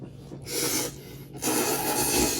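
Two loud, close slurps of noodles being sucked in, the second longer, with a short pause between them.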